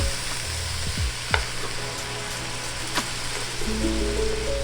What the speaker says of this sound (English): We're going to deglaze the pan one more time.